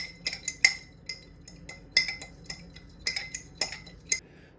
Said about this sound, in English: I'm gonna blend it, mix the two together really well